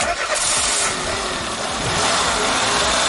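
A Peugeot 206 with a TU petrol engine idles after a valve adjustment, a close, rough low rumble with an uneven chugging texture and a slight swell near the end, heard on its own.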